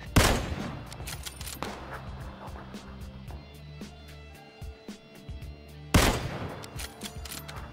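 Kar98 bolt-action sniper rifle shots in the video game PUBG, two sharp loud cracks about six seconds apart, with ringing echoes and mechanical clatter between them.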